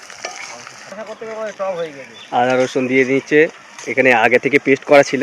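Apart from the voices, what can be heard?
sautéing spices with a spatula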